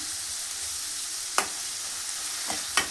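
Onions and curry leaves with salt frying in a pan for an egg curry with amaranth stem greens: a steady, even sizzle with a few sharp stirring scrapes near the end, no talking.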